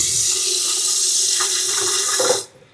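Water pours steadily into the inner pot of an electric pressure cooker, a loud continuous splashing rush that stops abruptly near the end, with no talk.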